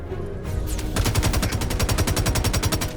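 Rapid automatic fire from an FS-9 machine gun in a video game, a steady, fast stream of sharp, evenly spaced bursts, loud and close, with no voices over it.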